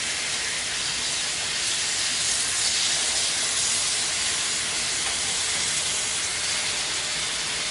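Rum and coke marinated pork chops sizzle steadily in a hot pan, a dense, even hiss that holds loud and close without pause.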